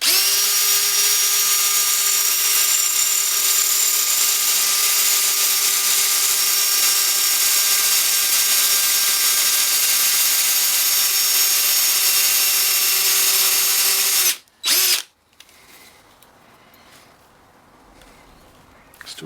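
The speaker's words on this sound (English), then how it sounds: "Going through die cast and stainless." A power drill whines loudly and continuously for a long stretch as its bit bores through die-cast metal and stainless steel, a high steady grinding tone, then stops abruptly and quiet rustling follows.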